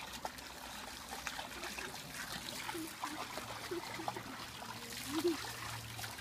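A faint, steady trickle of water runs throughout, like a thin stream being poured, with a few small splashy plinks over soft background noise.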